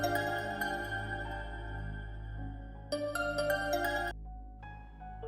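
A phone ringtone chimes in a repeating melodic pattern over a steady low hum, cutting out briefly and then resuming for a short phrase, with no one speaking.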